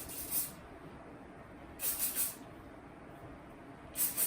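Hairspray misted over a French twist updo in three short, soft hissing bursts, each about half a second long, separated by quiet pauses.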